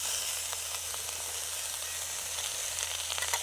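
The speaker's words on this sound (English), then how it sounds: "let's get the burgers in here. There we go, a nice sizzle." Steady, bright sizzling of venison burgers frying in a hot pan, close up and continuous, with faint crackles popping through.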